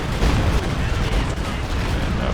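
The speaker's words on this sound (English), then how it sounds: "The base howitzer fire coming in." Howitzer artillery barrage in the real-time strategy game Company of Heroes 2, a dense, continuous roar of distant booms and rumbling impacts blending into a steady wash of battlefield noise.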